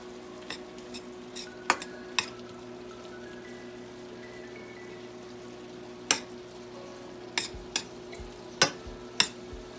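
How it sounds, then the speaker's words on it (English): Shepherd's pie cooking in a pan at home, with scattered sharp clinks and scrapes of a utensil against the pan over a faint sizzle and steady low hum, no talking. "my husband is cooking now the shepherd's pie"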